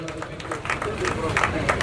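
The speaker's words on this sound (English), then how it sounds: "Can we clap to the poem by Ustaz?" An audience claps for a poem recited at a Red Army celebration of 16 May 2023, a dense, steady patter of hands mixed with murmuring voices throughout.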